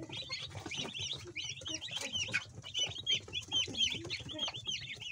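Flock of 24-day-old broiler chickens clucking and chirping continuously close by, with soft pecking and scratching sounds among the birds.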